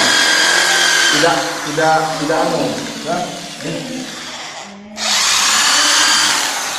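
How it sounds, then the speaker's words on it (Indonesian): A power drill whines loudly, its motor pitch wavering as it runs in reverse, with a brief pause before it spins up again. "Lumayan sakit kalau bor putarannya terbalik seperti ini."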